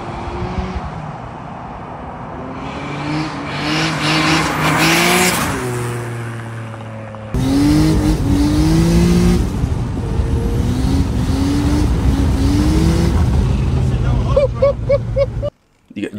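A turbocharged Acura with a boosted J-series engine revs hard and accelerates in surging bursts, loud and close, with tire noise and people talking over it.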